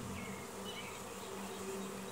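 Honey bees stream out of a hive and fly straight up, a close, steady buzzing hum of many wings that stays even and continuous throughout.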